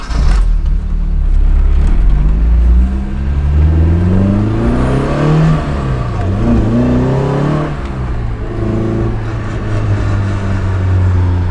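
A budget-build Toyota AE86 driven with a manual clutch, its engine loudly revving up and down through gear changes from inside the car, rising and falling tones over a steady rumble.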